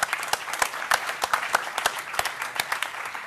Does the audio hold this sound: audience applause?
yes